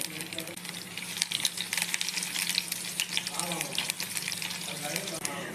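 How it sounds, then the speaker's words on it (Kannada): Garlic frying in hot oil for a tempering, a steady crackling sizzle with bursts of stirring, close by and moderately loud, with some background voice. "ಇದಕ್ಕೊಂದು ಒಗ್ಗರಣೆ ಹಾಕ್ಕೊಂಬಿಡೋಣ ಮೂರು ಹೆಸಲು ಬೆಳ್ಳುಳ್ಳಿನ ಕಟ್ ಮಾಡ್ಕೊಂಡಿದ್ದೀನಿ"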